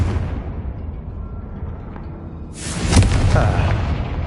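Confringo fire spell from a wizard action game: a low rumble builds, then a sudden loud fiery blast bursts up at once and rolls on with crackling debris, near and alone without talk.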